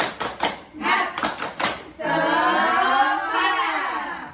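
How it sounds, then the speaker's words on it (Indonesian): Group of participants doing a rhythmic cheer clap in a training session, several quick bursts of synchronized claps at first, then giving way to a sustained blended sound of voices chanting together. "Oke, 1 kali lagi ya, yang semangat lagi, tepuk semangat semangat."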